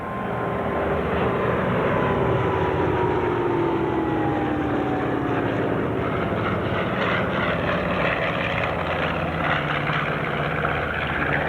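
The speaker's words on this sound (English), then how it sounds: "The B-24s flying the combat mission known as Loesti." Several B-24 bombers fly over an air show in a Ploiești raid reenactment, a loud continuous propeller-engine drone with slowly falling pitch as the planes pass, steady and unbroken throughout with no talk.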